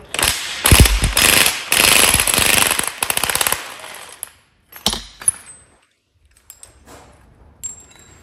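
Bolting up a gearbox mount on a Renault Clio 182/172 with an Audi 1.8 20VT engine conversion. Loud bursts of a pneumatic impact gun rattle in quick succession, followed by fainter metallic clinks and clunks of tools and parts.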